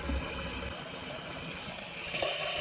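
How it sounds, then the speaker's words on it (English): Water sprays steadily from the nozzles of a LUXE Bidet Neo-185 bidet seat during its self-cleaning cycle, a continuous hissing rush with a slight swell near the end and no talking. "You'll see water coming out. The nozzles are currently cleaning themselves"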